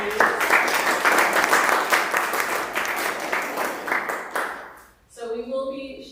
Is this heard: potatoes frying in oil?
no